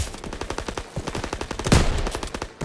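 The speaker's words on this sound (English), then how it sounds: "MGs, open fire." Several World War II machine guns fire in rapid, steady bursts in the game Call of Duty WW2, loud and close, with a heavier blast partway through and no voices.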